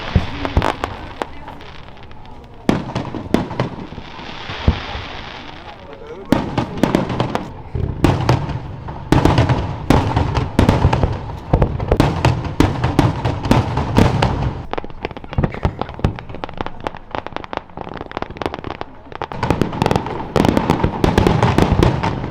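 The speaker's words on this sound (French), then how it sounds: "Le 15 août, vraiment les feux d'artifice c'était magnifique." Fireworks over the lake at Evian on 15 August: a dense, continuous barrage of booms, crackles and pops, loud and nearby, building after a brief quieter stretch into sustained rapid bursts.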